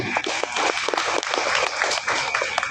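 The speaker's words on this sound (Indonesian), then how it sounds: "Tepuk tangan dulu." Audience applause fills a religious gathering for a Nuzulul Qur'an recitation event, a dense, steady wash of many hands clapping close and loud for the whole stretch, with no talk over it.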